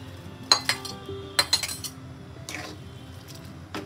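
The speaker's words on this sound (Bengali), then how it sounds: "এবার আমি দিয়ে দেবো চিকেন ভেজে রেখেছিলাম" Pre-fried chicken pieces for American chopsuey go into a pan, with a few sharp metallic clinks and scrapes of spoon against pan at close range, then quieter stirring noises.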